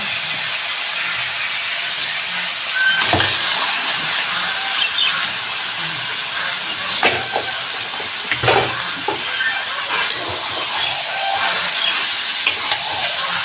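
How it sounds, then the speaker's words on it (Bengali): Boiled lotus taro stems sautéing with spices in a pan, a loud continuous sizzle and steam hiss with occasional scrapes and knocks of the spatula stirring through, no voices. "এবার এটা সুন্দর মতো কষে নেব"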